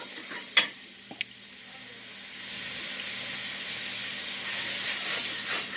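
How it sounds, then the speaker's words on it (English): Worcestershire sauce sizzles as it hits hot, dry chili seasoning in a pan, a steady close hiss that swells and holds after a couple of sharp taps at the start. "There you hear it sizzle, and it tells you how hot and dry this mixture is."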